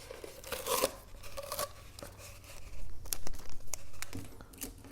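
Black tape being pulled and torn off a roll, with short crackling rips and crinkles coming in bursts at close range, with quiet pauses in between.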